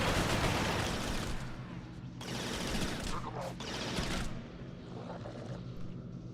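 Dense rapid gunfire in a shooter video game, bursts of automatic fire and explosions rolling continuously and loud, briefly thinning before resuming.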